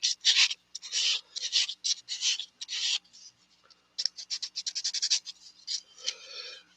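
Rapid scratchy rubbing strokes of sanding on a wooden decoy, close and bursty, in quick back-and-forth bursts with short pauses between runs.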